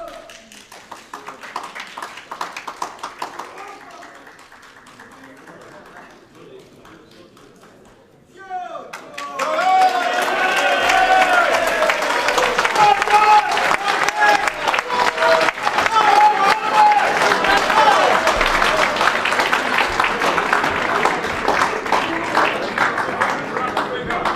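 At an East London election rally, a crowd bursts into loud, continuous clapping and cheering. It follows quieter talk and then carries on strongly for over fifteen seconds with voices mixed in.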